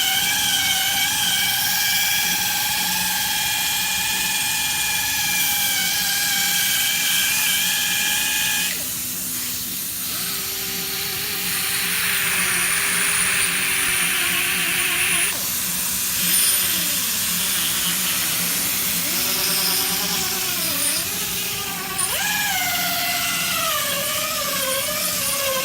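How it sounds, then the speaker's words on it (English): A polisher restoring the headlight of a 2012 Cadillac SRX whines at high pitch, then its speed drops and rises again as it works carefully near the painted edges, running steadily throughout with no talking. "the RPM coming down on the machine because of the caution that she's using around the painted surface"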